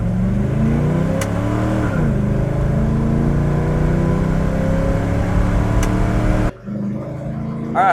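A car engine drones steadily at full throttle while driving, its pitch rising as the car accelerates, with a loud continuous roar that briefly dips near the end.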